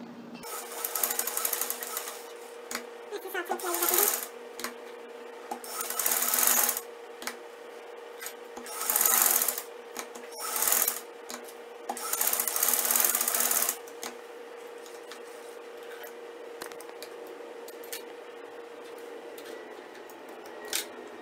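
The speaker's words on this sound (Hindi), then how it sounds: "दूसरी तरफ सिलाई लगाते हैं" A sewing machine stitches a Chinese-style collar in several bursts of rapid whirring, each a few seconds long, separated by quiet pauses and small clicks as the fabric is turned, close and fairly loud.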